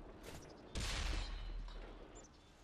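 Tank cannon shot in the World of Tanks video game on Xbox 360, fired from a T26E4 Super Pershing: a loud sudden boom with deep low rumble that decays slowly, preceded by fainter mechanical clatter.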